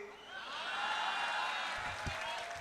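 Brief, moderately quiet audience applause at a poetry event, a soft wash of clapping that swells and fades, with a few low thumps near the end.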